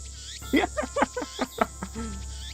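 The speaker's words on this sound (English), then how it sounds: "Damn cicadas won't shut up" Cicadas drone in the Steins;Gate video game on a hot, near-evening day, a steady high-pitched buzz running the whole time beneath a voice speaking in short bursts.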